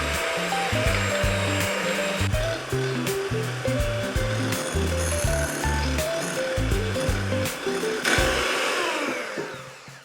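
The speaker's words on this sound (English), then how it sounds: "We're gonna whisk these egg whites and get them nice and frothy" An electric hand whisk beats egg whites in a bowl for a Japanese cheesecake, a loud continuous motor whir with rattling beater contact that holds steady throughout, then fades away at the end.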